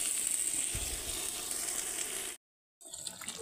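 Vegetables sizzle steadily in a frying pan for a home-cooked village meal, a continuous close hiss that cuts out abruptly to silence before resuming.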